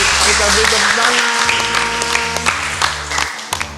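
Audience applause at a theology quiz session, with clapping mixed with background music or voices, fairly loud and uneven.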